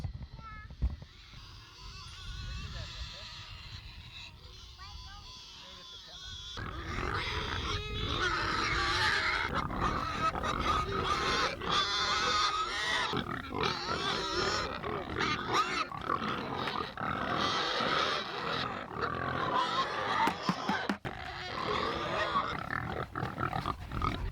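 Pigs grunt and oink at feeding time on a homestead, a dense, busy chorus of snorts that swells loud after a quieter opening and keeps going close by, with some voices or clatter mixed in.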